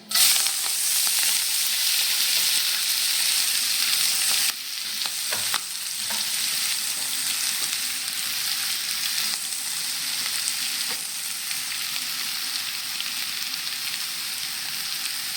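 Ponnanganni greens sizzle and hiss steadily in a hot pan over popped rice, a close, continuous frying noise with occasional stirring scrapes and no voices.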